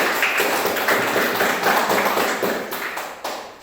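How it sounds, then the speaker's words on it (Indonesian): A classroom of students claps for a student group after its presentation, a dense, steady patter of many hands that stays fairly loud throughout, with no talking over it. "kita tepuk tangan untuk kelompok ini juga."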